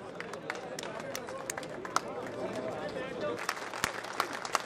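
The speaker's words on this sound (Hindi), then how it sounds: "एक बार जोरदार तालियां बजाकर अभिवादन करें, स्वागत करें आदरणीय भजन लाल जी शर्मा का" A crowd at the opening of a BJP candidate's election office in Sanganer, Rajasthan, claps steadily in welcome, a dense, moderately distant patter of many hands with scattered sharper claps and a low murmur of voices beneath.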